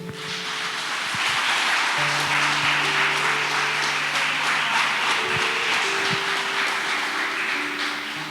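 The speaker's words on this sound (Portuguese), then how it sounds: "Você pode aplaudir ao Senhor?" A church congregation applauding during a worship service, a broad wash of clapping hands held steady and fairly loud for several seconds, with sustained organ or keyboard tones underneath.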